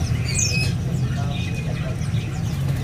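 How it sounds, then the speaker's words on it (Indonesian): A murai arung bird in a bird shop gives a few thin squawks and whistles over a steady low hum of shop noise, fairly faint and scattered through the moment. "Ini ada burung murai arung ya."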